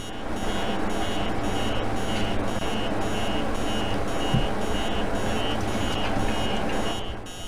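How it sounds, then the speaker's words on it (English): Alarm in the horror game Emily Wants to Play 2, sounding as a steady, continuous electronic beeping that stays loud and unbroken across the whole stretch with no talk over it. "Can I turn off that alarm?"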